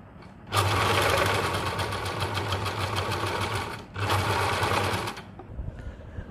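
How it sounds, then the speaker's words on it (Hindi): A sewing machine runs in a steady rapid whir, stitching a fabric hair band, pausing briefly near the end before a second burst, close and loud with no talk. "अब दोनों को स्टिच कर दूंगी मैं इधर, ऐसे पैक कर दूंगी मैं।"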